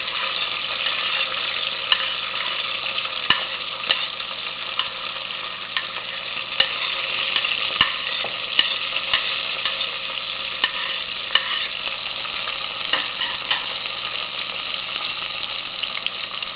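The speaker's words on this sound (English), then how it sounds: "I'm gonna add my onions. I'm using chopped onions" Chopped onions frying in a pan for chickpea curry, a steady bright sizzle with scattered small pops and occasional stirring clicks, close and continuous.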